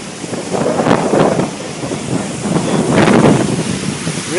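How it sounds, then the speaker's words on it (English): Strong wind buffeting the microphone at a flooding levee break, loud gusts rising and falling continuously with a rushing, roaring wash underneath and no voices. "It's kind of windy, pretty loud up here"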